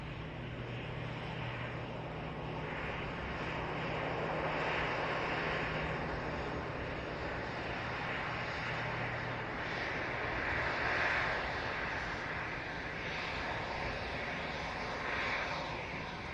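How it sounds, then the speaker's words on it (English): KLM Airbus A330 airliner passing overhead at Manchester Airport, a steady broad engine roar that swells gently around the middle and holds at moderate loudness throughout, with no talk. "Got a KLM 330, Amsterdam to Washington. Just about to go over the top as well here."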